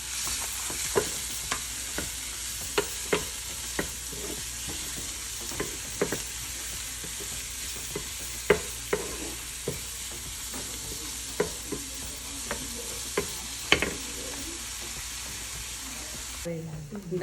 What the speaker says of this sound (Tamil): கொச்சிங்க வெங்காயம், பச்சை மிளகாய் எல்லாம் போட்டு இந்த பச்சை மணம் போகும் மட்டும் கொஞ்சம் தாளித்து